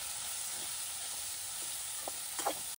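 Ridge gourd frying in a pan with turmeric gives a soft, steady sizzle, with a few brief stirring scrapes near the end.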